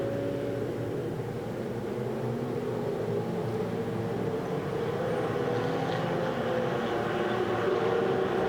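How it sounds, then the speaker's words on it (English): Ferrari Challenge race cars from the Coppa Shell race at Circuit of the Americas rumble together at low pace behind the safety car, a steady, continuous engine drone from the full field with no voices. "as the cars begin to pair up side by side"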